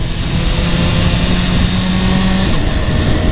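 A BMW S1000RR motorcycle is ridden at an easy pace in the countryside, its engine a loud, steady drone mixed with heavy wind rush, with no speech.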